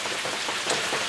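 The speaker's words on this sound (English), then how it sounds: "all this rain, and obviously you throw in the warmth" Steady rain falls outside during warm, humid weather, a dense, even hiss of drops pattering on surfaces with no voices over it.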